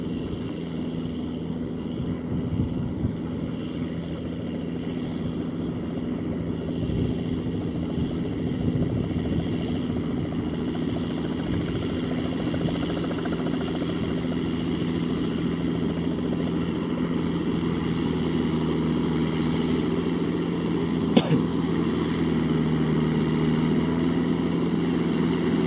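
A Kubota L5018 tractor engine runs at a steady, loud, continuous drone with a low throbbing hum, close by and unbroken, apart from a single brief click late on.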